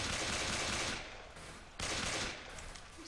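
Continuous automatic gunfire in Left 4 Dead 2, dense and loud, in two sustained bursts separated by a brief dip, with no voices over it.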